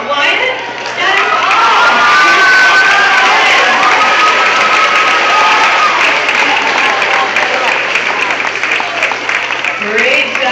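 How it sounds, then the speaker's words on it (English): Loud, sustained applause and cheering from a school crowd at a student awards ceremony, with children shouting over steady clapping that fills the room. "Let's give these responsible students one more giant round of applause."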